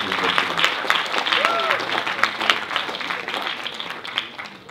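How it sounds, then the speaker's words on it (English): Audience applause at a university finalist pitching competition, a steady wash of clapping from a crowd lasting throughout, fairly loud and even. "Let's give them a round of applause, ladies and gentlemen."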